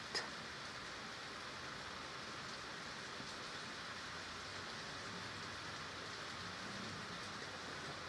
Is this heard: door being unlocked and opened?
no